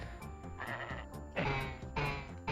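Sheep in the SNES game Super Noah's Ark 3D bleat in short, synthetic-sounding cries that repeat over quiet game music.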